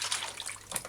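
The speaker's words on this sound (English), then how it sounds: "prepare the vegetables by rinsing and washing under running water" Running tap water splashes over vegetables being rinsed, a short close burst of hissing, gurgling flow with no voices.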